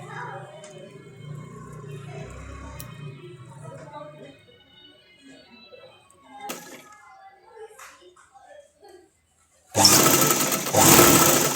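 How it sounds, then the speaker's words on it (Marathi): Sewing machine double-stitching lace onto a dress, a loud close mechanical whir starting near the end in two bursts, after a stretch of someone talking quietly. "वरून आपण डबल शिलाई मारत आहोत"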